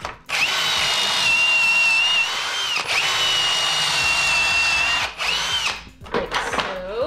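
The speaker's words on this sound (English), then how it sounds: "I'm drilling pocket holes into these 2x4s for the headboard and the footboard" A power drill whines loudly in three long runs, drilling 1½-inch pocket holes into 2x4 lumber, with brief pauses and some handling clatter at the end.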